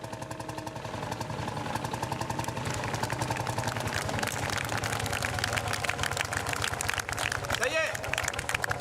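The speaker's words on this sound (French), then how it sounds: "le premier tracteur de la commune" An old 1950s tractor engine idles nearby with a steady, rapid chugging beat that stays loud and even throughout.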